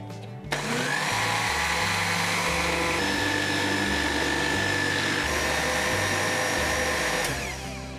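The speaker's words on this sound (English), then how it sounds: "Now only thing left is to churn it." An electric machine whirs steadily as it churns a mango ice cream mixture of fruit and cream, a loud close motor drone with shifting pitch that runs for several seconds before winding down.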